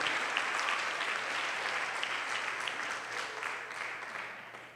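Church congregation applauding together, a steady dense clapping that fills the space, loud and continuous with no talk over it.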